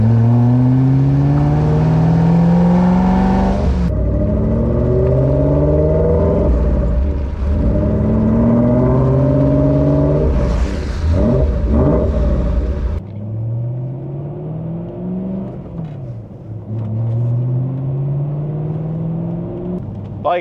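A BMW E92 M3 V8 revs hard with its exhaust valves open, a deep, loud rumbling engine note that climbs repeatedly in rising sweeps, dropping back between pulls, close and alone with no talk.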